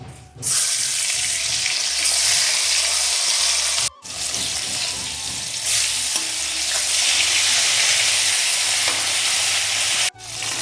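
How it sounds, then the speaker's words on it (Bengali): Loud, continuous sizzling of salt-and-turmeric-coated sea fish frying in hot mustard oil, with a low clatter of stirring and two brief breaks in the hiss. "আগে থেকে নুন হলুদ মাখানো মাছগুলো তেলের মধ্যে"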